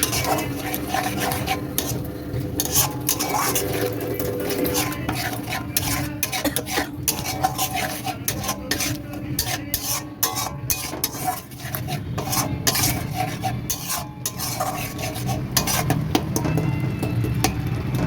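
Cashew, melon seed and tamarind paste being stirred and sautéed in a pan for a chicken dish, with close, continuous scraping and rasping strokes of a spoon and scattered metallic clinks over a steady sizzle.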